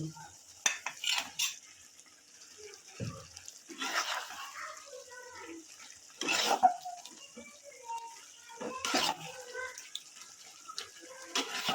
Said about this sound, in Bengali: এই ভাজা মাছগুলা এই গ্রেভিটাতে দিয়ে দিব।